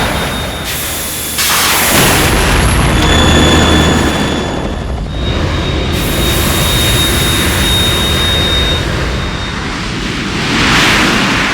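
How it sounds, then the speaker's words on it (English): Harrier jet in the Metal Gear Solid 2 video game, a loud sustained engine roar with rumbling surges and a high whine, broken by a brief dip before the thunderous blast resumes. "You have to shoot the Harrier down."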